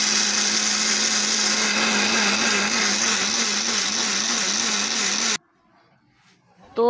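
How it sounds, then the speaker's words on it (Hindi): A kitchen mixer grinder whirs loudly and steadily as it grinds onion, tomato and green chili, then cuts off abruptly into near silence, with a brief clatter at the end. "पहले हम प्याज को, टमाटर और हरी मिर्च को मिक्सी में डालकर पीस लेते हैं।"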